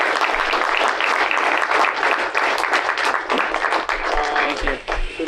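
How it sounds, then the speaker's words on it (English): A campus crowd at a Pizza With The Pros talk applauds guest Sean Kelly, loud dense clapping filling the room, with a voice or two faintly mixed in toward the end. "everyone give a round of applause"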